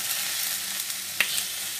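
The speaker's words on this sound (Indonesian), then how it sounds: "Ayamnya aku osengin dulu ya guys," Chicken pieces sizzle and hiss softly as they are stir-fried in a pan for soto ayam, a constant low frying noise broken by a single sharp clink of a utensil.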